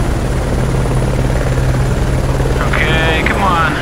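Helicopter in the off-road racing game BAJA: Edge of Control, a steady loud rotor drone running throughout, with a brief higher chirping sound layered near the end and some talk in the background.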